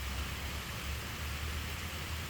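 Soft, steady hiss of rain falling, even and unbroken throughout, with no voices or other sounds.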